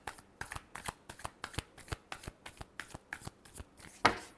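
Tarot cards shuffled by hand in a quick, regular run of riffling bursts, about a dozen close crisp flutters with a sharper final snap, heard alone without speech.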